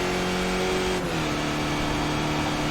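A damaged race car in a racing video game at Road Atlanta drones with a steady, rough engine tone that dips briefly and settles lower, heard alone at close range.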